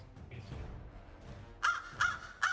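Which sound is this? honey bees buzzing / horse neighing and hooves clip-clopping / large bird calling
large bird calling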